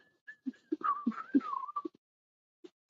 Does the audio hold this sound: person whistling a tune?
yes